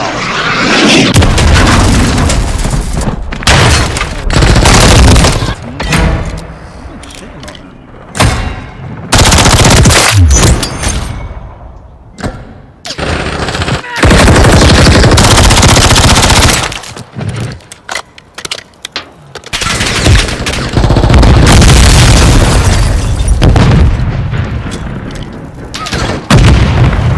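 A cruise missile strike and gunfire in a video game: loud bursts of rapid machine-gun fire and heavy booms, dense and continuous with brief gaps of quiet between volleys.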